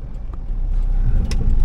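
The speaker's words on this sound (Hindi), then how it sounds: "एक गाड़ी निकल रहा है" A car rolls out of a roadside car wash, a steady close engine rumble and tyre noise that builds slightly as it passes.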